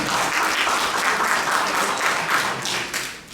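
Church congregation gathered for a Sunday Lectio Divina gives a warm, dense round of clapping that holds steady, then tapers off near the end.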